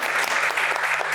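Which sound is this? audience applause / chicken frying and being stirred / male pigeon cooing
audience applause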